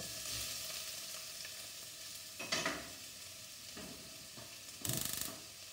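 Onion frying in a couple of teaspoons of oil in a pan for a lotus seed curry, a soft steady sizzle with a few louder bursts of stirring and scraping, heard alone without talk.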